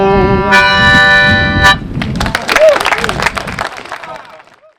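The Nobska Light foghorn near Martha's Vineyard sounds one long, loud, steady blast, then gives way to crowd noise and clapping-like clatter that fades out.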